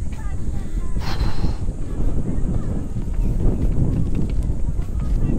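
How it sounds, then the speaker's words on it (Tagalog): Strong wind at a seaside cliff roars against the microphone in a loud, constant low-frequency rush, with some faint voices mixed in. "Lakas ang hangin."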